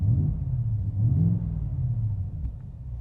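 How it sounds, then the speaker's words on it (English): A 2024 Ford F-150 Raptor exhaust revved in normal mode: a steady, deep rumble that swells slightly and settles, heard up close with no talk. "I will rev up now in just normal mode, the exhaust,"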